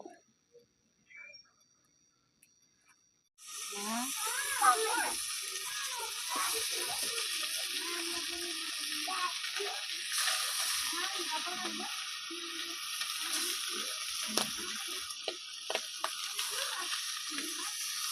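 Fish sizzling as it fries in a pan with turmeric, a dense steady crackle that starts abruptly after a few near-silent seconds and continues loud and close, with small pops and stirring scrapes.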